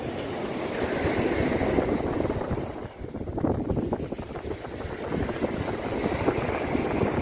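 Black Sea waves roll onto Uchkuevka beach near Sevastopol in winter, a loud continuous surf wash with a brief lull midway before the next breaker, wind noise mixed in and no talk.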